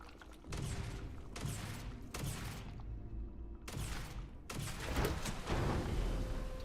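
Gunfire in the video game Starfield, with sustained loud bursts of rapid shooting broken by short silent gaps, all close and dense over a low rumble.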